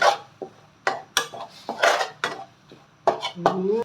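Thai curry paste stir-fried in water in a pan, with a series of sharp metal-on-pan scrapes and clinks in uneven bursts, close and fairly loud.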